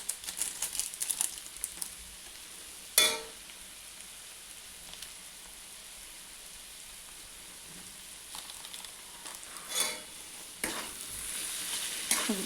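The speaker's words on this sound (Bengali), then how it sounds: "মশলাটাকে আমি ভালো করে এটার সঙ্গে মিশিয়ে দেবো।" Masala gets stirred into chowmein in a frying pan with a soft, faint sizzle, broken by a few louder scraping and crinkling bursts.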